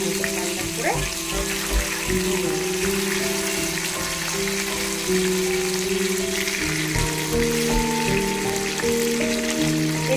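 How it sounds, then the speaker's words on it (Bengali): Tilapia fish frying in oil in a pan, giving a loud, steady, dense hiss that runs the whole time beneath background music. "মাছটা ভাজা হয়ে যাবে আবারও সামান্য তেল দিয়ে দিলাম"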